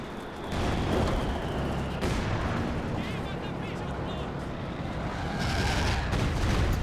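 Artillery shells landing in Company of Heroes 2, a dense continuous rumble of blasts and gunfire, loud and close, under a commentator's voice.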